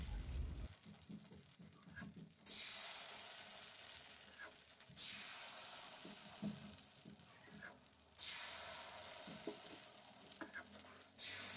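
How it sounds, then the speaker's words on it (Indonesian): Kue pancong batter is poured into hot oil in a pan, and faint sizzling hiss swells in sudden bursts amid quiet clinks and kitchen sounds. "Setelah minyaknya sudah panas, kita tuang adonan kue pancongnya."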